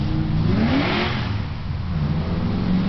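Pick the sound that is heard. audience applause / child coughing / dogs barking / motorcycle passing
motorcycle passing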